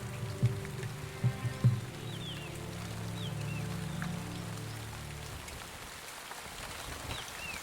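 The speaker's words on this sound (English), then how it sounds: "The downpours get heavier and more frequent." Heavy monsoon rain falls in an Indian jungle as a steady, close hiss, with a few low thumps early on and faint bird calls in the background.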